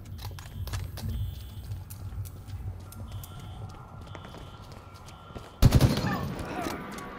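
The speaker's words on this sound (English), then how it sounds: "We're both firing at them" Gunfire in Halo Infinite multiplayer, quick repeated shots crackling over game sounds and footsteps, ending in a loud heavy blast near the close.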